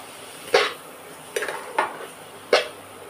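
A spoon stirs malai suji halwa in a pot over low flame, giving four distinct scraping knocks of metal against the pan, spaced apart, over a quiet background.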